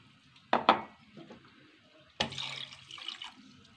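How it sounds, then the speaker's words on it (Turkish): A couple of sharp clinks against a pot, then a splashing pour of two cups of water onto two cups of sugar in it, fairly close and moderately loud. "başka bir tenceremize 2 bardak şekerimizi ve 2 bardak suyumuzu ilave ediyoruz"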